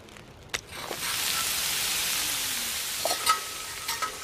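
Food cooking over a fire in The Long Dark gives a steady, soft sizzle and hiss lasting a few seconds, with occasional small clicks and taps over it.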